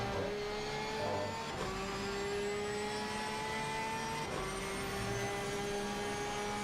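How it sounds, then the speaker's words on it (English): A Porsche GT3 race car in a sim racing sprint at the Nürburgring gives a steady, metallic high-pitched engine whine, held continuously with brief dips at gear changes, loud and alone without talk. "This Porsche sounds really good, doesn't it? Kind of this metallic whining."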